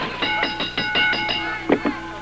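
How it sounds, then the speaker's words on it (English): Wrestling ring bell at a 1990 Atlantic Grand Prix Wrestling TV match, struck in a quick series of about seven bright metallic clangs, then two more, all ringing over a crowd-noise background. "I sat right here and watched you ring the bell."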